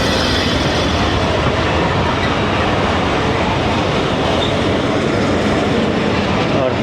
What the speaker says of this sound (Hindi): और ये पहुंच रही है 8 डाउन तेज़गाम GU 409033 की लीड में, जिसकी माशाल्लाह सारी लाइटें जल रही हैं।